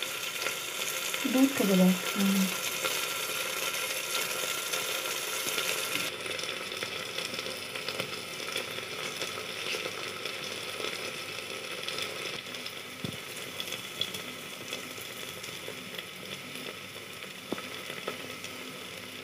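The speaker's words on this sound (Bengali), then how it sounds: "আবার রসুন সমস্ত কিছু দিয়ে আবার পুনরায় ভাজবো।" Garlic, onion and spices frying in a pan for an egg tadka, with a faint continuous sizzle and occasional stirring scrapes. A brief voice speaks near the start.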